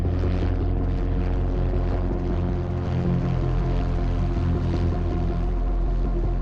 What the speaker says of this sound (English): the helicopters dropped into a descent